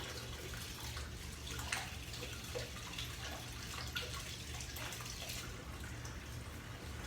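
Cold tap water running steadily from a kitchen faucet, a faint continuous splashing hiss with no talking.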